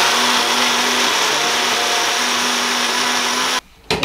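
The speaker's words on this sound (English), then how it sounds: "So I'm gonna blend this together. Separate little blender." A small separate kitchen blender whirs steadily and loudly while blending a spice paste for a chicken dish, running continuously before cutting off abruptly near the end.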